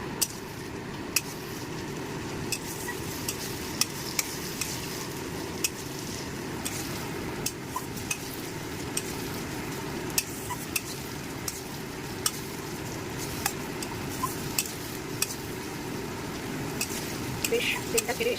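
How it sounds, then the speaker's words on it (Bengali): Turmeric, chilli and cumin spice paste being sautéed on a low flame in a pan, a soft continuous sizzle with occasional ladle clinks and scrapes, faint and steady. "আমি কিন্তু একদম লো আঁচে কষাচ্ছি।"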